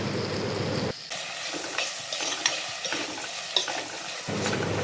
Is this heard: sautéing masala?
yes